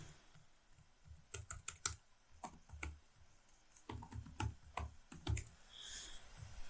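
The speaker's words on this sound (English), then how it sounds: "So I don't have to keep typing that thing" Typing on a computer keyboard, irregular bursts of close, crisp key clicks with short pauses between runs of keystrokes.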